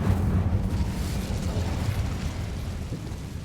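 An Incendio fire spell cast in Hogwarts Legacy roars out as a dense, rumbling whoosh of flame that holds steady and loud before easing slightly toward the end.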